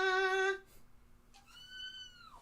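A steady musical note sounds, then after a brief pause the cat Mono gives a single drawn-out meow that holds the pitch and dips at the end, moderately quiet and close.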